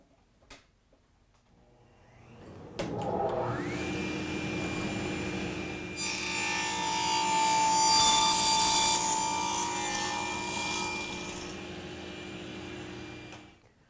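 A power tool whirs up and runs steadily while cutting a wooden tenon in a woodworking shop, loud and continuous after a few faint knocks, then swelling as the blade bites the wood, no talk.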